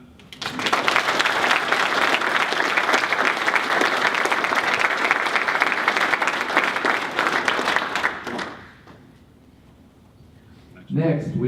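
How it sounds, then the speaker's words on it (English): Audience applause fills a military retirement ceremony for a U.S. Air Force technical sergeant, loud and steady for about eight seconds before fading, followed by a brief quieter stretch. "You can clap."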